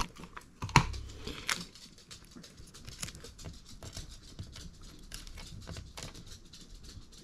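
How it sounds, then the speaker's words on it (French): Adhesive tape handled while assembling a wire butterfly, heard as a dense run of close crinkling, tearing and tapping clicks with one sharp snap near the start, continuing steadily without speech. "Je prends mon scotch."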